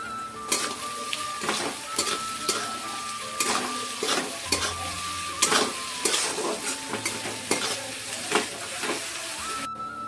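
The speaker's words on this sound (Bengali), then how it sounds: "পেঁয়াজ আমাদের লাল লাল করে ভাজা হয়ে গেছে" Onions fry in a pan with a little salt for Bengali chicken kosha, giving a steady close sizzle broken by repeated stirring scrapes and clinks of a utensil against the pan, with no talking.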